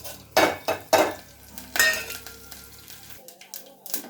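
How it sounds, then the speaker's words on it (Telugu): Tempering seeds sizzling in hot oil for a bottle gourd curry, with sharp bursts of crackle and metal utensil knocks against the pan, close and fairly loud, no talk. "తాలింపు గింజలు వేసేసుకుందాం"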